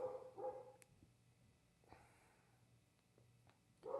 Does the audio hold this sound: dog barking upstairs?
yes